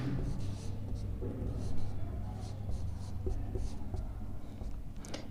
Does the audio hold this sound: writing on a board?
yes